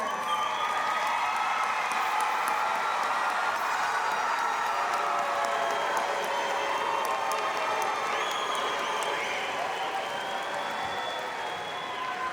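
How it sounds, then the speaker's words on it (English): A graduation audience at a technical college ceremony applauds its supporters, a dense, sustained wash of clapping and crowd cheering that fills the room and tapers slightly near the end. "join me in giving them a round of applause they so deeply deserve"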